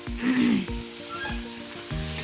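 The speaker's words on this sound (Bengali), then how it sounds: "হয়ে গেছে মাংসটা সুন্দর কষানো হয়ে গেল ভাজা ভাজা" Beef sizzles steadily as it is dry-fried over a wood fire for bhuna khichuri, with soft scraping thumps from stirring breaking through the close, continuous hiss.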